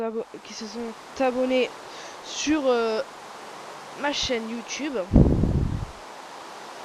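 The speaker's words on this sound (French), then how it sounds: "excusez-moi pour la pluie, donc je vais l'enlever tout de suite." Rain falling in the Minecraft video game, a soft steady hiss beneath someone speaking French, briefly swelling into a louder burst of noise near the end.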